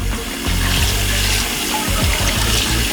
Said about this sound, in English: I just rinsed the extra ketchup that was in here